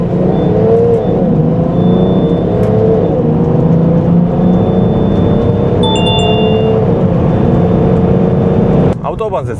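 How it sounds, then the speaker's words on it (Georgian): A BMW X5 turbo-diesel accelerating on the autobahn, a loud steady engine drone whose pitch climbs and drops through gear changes, with a rumble and a whine. "ავტობანზეც კარგად აჩქარდა, როგორც ვნახეთ"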